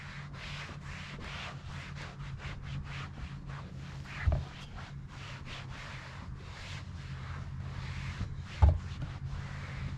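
A rag wipes the surface of a UTV with WD-40 in repeated soft rubbing strokes at a steady rhythm, with a couple of faint bumps, quiet and close.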